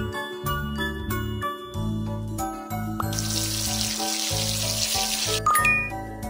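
Splashing, running water rinses soap from a face in a children's spa makeover game, a steady bright wash that takes over midway under a bouncy music track with chimes.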